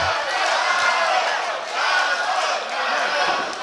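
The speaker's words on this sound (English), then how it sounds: "Crowd trying to cheer Cosmo back to life." Wrestling event crowd cheering and shouting to rally a fallen wrestler, a steady surging roar of many voices with faint thuds, a few individual yells rising above.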